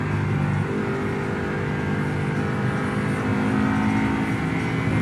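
An Audi R8 on a road trip in Scotland drives with a continuous engine drone and road roar heard from inside, steady and fairly loud, the pitch shifting slightly as it pulls.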